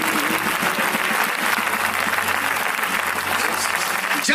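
Loud, dense applause from a crowd honoring a guru at a religious gathering, continuous and close throughout.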